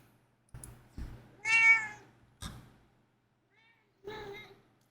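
A house cat gives two or three short, clear meows close by, one drawn out and louder, separated by soft thumps and shuffling in an otherwise quiet room.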